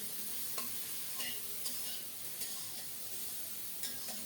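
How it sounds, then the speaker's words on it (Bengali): Drumsticks frying with turmeric and spices in a pan over low heat, making a quiet steady sizzle broken by several light stirring scrapes, with no speech. "সজনে ডাটা সহ আরও কিছুক্ষণ কষিয়ে নেব"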